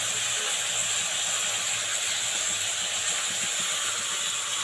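Tomato, green chili and onion frying with panch phoron in a pan, giving a steady, loud sizzling hiss that carries on without a break, with no talk over it.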